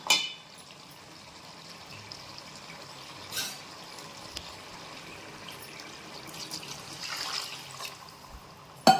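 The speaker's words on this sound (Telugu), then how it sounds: "ఇప్పుడు అక్కడ నీళ్ళు వేసుకుందాం" Water poured into a cooking pan of spicy prawn curry with gongura, a low steady liquid pour with a brief louder gush mid-way and another near the end, fairly quiet with no talk.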